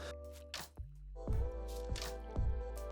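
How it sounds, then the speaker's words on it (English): A sponge scrubs wetly around a titanium bike frame, with a few squishy drips and squeaks in short irregular strokes, close and fairly quiet. "So I'm just going to use this sponge now to go around the frame."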